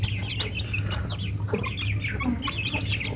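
Chickens and young chicks cluck and peep close by in a poultry pen, with a steady low hum underneath throughout.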